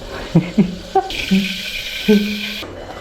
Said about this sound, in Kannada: ರೈಸ್ ತೊಳಿಬೇಕು.